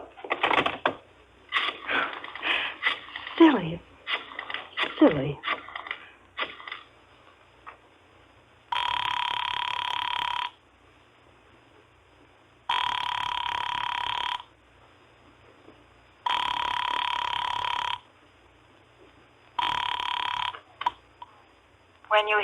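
A telephone dialed and then ringing, with quick clicks and burbles of dialing under a voice, followed by four long, even rings with pauses between them.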